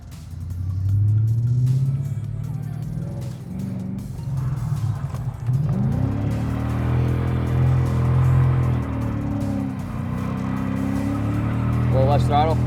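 A car drifting during a drift lesson, its engine revving and roaring loudly and continuously with rising and falling pitch, close up and steady throughout, while a voice talks over it.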